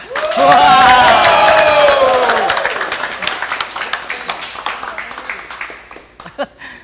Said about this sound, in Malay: tepuk tangan dengar aja meriah